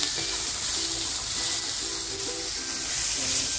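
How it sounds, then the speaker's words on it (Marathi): Chopped onion hitting hot oil in a pan while making a breakfast dish from leftover rice gives a steady broadband sizzle and hiss that holds evenly throughout, with faint background tones beneath. "आता जो कांदा घेतला होता ना तो कांदा टाकते"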